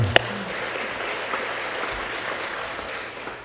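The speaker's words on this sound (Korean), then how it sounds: "상반기 동안 1년의 절반을 지켜주신 여호와 하나님께 박수로 영광 돌리겠습니다" A church congregation applauding during a Sunday worship service, a continuous broad wash of clapping that fills the room at steady volume for several seconds before easing slightly at the end.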